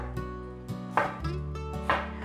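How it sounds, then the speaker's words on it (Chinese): A few crisp knife chops through enoki mushrooms on a cutting board, four spaced strikes sounding over steady tonal background music. "把金针菇切碎。"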